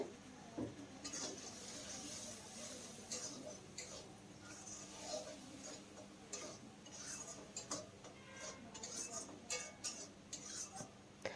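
Ground spice paste is stirred into beans in a cooking pan, giving faint, irregular light clicks and scrapes of a utensil against the pan under a steady low background hum.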